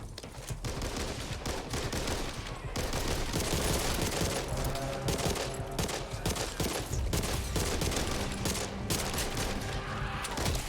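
Sustained gunfire from a teammate in the zombie shooter Back 4 Blood, dense overlapping bursts of automatic shots over loud game action, continuous and close throughout with no talk.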